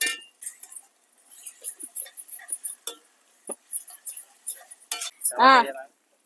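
Small fish frying with ginger-garlic paste get stirred in a pan, giving a run of scattered metallic scrapes and clinks of a spoon against the pan. A short, louder clatter comes near the end.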